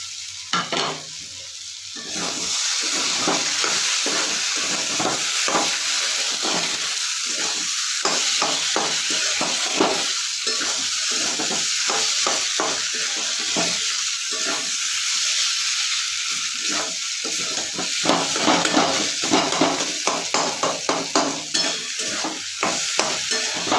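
Onions and snake gourd fry in a pan, a loud continuous sizzle broken by repeated spatula stirs and scrapes, speeding into quick rhythmic strokes near the end, with no talk.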